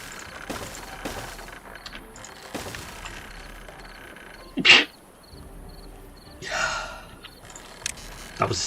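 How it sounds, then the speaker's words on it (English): A single sharp human sneeze bursts out midway through, loud and close, set against quiet background noise with a few other short breathy sounds. "That was a sneeze."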